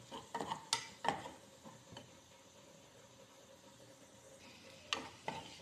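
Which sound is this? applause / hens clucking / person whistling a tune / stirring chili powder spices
stirring chili powder spices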